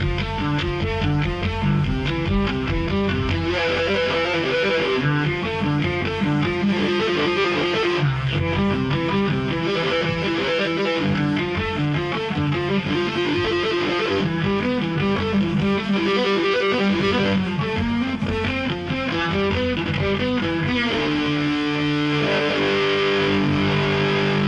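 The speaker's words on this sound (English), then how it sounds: "based on classical motifs coupled with a wah-wah pedal and some massive distortion" A bass solo, built on classical motifs, plays through a wah-wah pedal and heavy distortion, a dense, loud, continuous melodic line with no voices.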